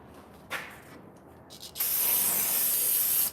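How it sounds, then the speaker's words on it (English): Brake cleaner sprays in a loud, steady aerosol hiss onto the transmission of a 2010 Toyota Tacoma, preceded by a couple of short bursts, close up with no talking. "is take some brake clean"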